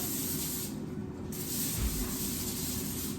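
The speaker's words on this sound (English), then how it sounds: "I'm gonna spray with some spray." A steady, broad hiss of an aerosol cooking spray can runs through the whole clip, briefly thinning in the high end before resuming, with no voices.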